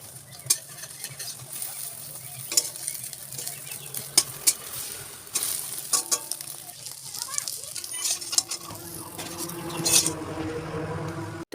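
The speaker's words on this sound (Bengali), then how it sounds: "চলো তারপরে ডিমটা ভেজে নেই" An egg frying in a pan, a steady close sizzle broken by scattered clinks and scrapes of a utensil, with faint background noise and no clear speech.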